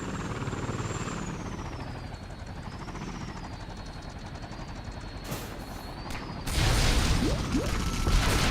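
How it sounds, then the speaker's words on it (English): A police battlecopter flies in the LEGO Batman video game: a continuous whirring rotor drone with a wavering high whine, which swells into a louder, denser roar near the end. "Police battlecopter."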